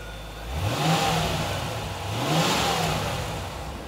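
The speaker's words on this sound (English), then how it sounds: "But if you want to rev the engine," A C4 Corvette engine revs twice, each blip rising from idle and falling back, close and fairly loud with no voices over it.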